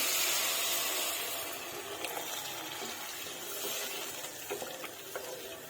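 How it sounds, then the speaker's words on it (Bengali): Water from boiled chicken poured into a soup pot for vegetable chicken soup, a steady close splashing gush that starts loud and settles into softer bubbling and trickling, with a few small clinks near the end. "মাংসটা সিদ্ধ করে রেখেছিলাম, সেই জলটা আমি দিয়ে দিলাম।"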